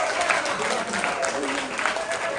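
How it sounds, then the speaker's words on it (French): An audience applauds the evening's sponsor: a brief, dense burst of clapping at moderate volume, with a few voices in the crowd. "est-ce qu'on peut applaudir la commanditaire de la soirée?"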